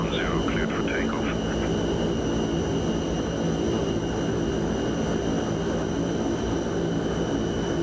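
Fokker F27 turboprop engines at takeoff power in a flight simulator, a steady, dense droning roar with a constant tonal whine, unbroken throughout, with a brief bit of radio-style voice early on.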